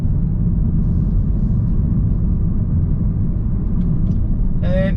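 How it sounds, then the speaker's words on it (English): Steady low tyre roar and road rumble inside a 2019 Mercedes-Benz A35 AMG hatch cruising at about 70 km/h, constant and close, with a brief voice starting at the very end. "It's a little bit noisy from the tyres"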